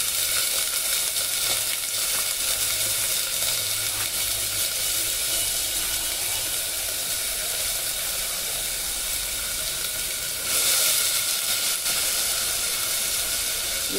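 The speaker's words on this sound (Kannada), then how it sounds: "ಬಿಸಿ ಆದಮೇಲೆ ಈ ಥರ ಈ ಕಾಳನ್ನ ಹಾಕಿ ಹುರ್ಕೋಬೇಕು" Field beans (avarekalu) roasting in a hot pan give a steady, close, continuous sizzle and hiss that keeps going without a break, with a brief louder surge near the end and no voices.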